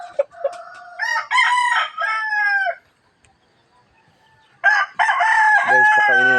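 Chickens cluck and a rooster crows close by in two loud bursts separated by a short quiet gap, each one ending in drawn-out, strained calls.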